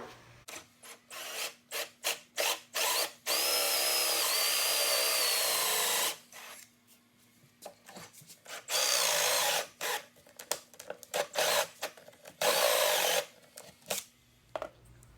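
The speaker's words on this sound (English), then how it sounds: "I just finished drilling those." A power drill boring hinge holes into a wooden cabinet door for Euro hinges, with several short bursts and two longer sustained runs, loud and close, separated by pauses.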